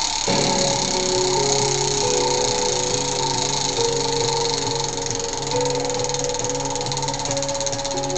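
A Wheel of Fortune board game wheel spins with rapid, even ratchet clicking that runs continuously and loud throughout, with a humming mechanical tone underneath and no voices.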